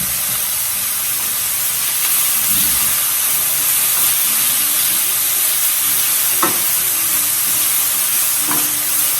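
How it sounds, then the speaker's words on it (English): Vegetables for an Italian meatloaf cook in a pan with a steady, loud sizzle and hiss that runs the whole time, with a few soft stirring clinks. "And you want to cook this for about 5-10 minutes until all the vegetables are softened."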